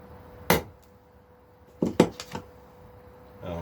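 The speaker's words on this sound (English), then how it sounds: "put a center punch dot on it" A hammer strikes a center punch on a metal part in a workshop during a late-1960s Stratocaster guitar build, giving one sharp tap, then a quick cluster of three or four taps after a pause, all close and fairly quiet.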